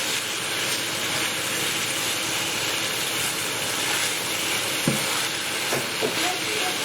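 Crispy chili beef sizzles steadily in sauce while being stirred, a continuous hiss with a few faint scraping clicks and no voices.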